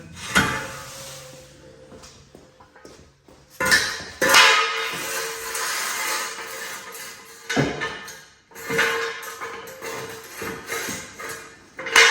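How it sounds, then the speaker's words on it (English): Heavy duty metal axle stands handled on a garage floor, with intermittent clanks, scrapes and knocks of steel coming in irregular bursts separated by short pauses, close by with no talk. "Get your axle stands. I've got a pair of big heavy duty ones there."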